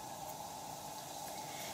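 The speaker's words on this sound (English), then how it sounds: "So you can see it's starting to sizzle." Chopped onions and cumin seeds frying in hot oil in a pan, giving a steady, soft, even hiss with no breaks, fairly quiet and close, and no talking over it.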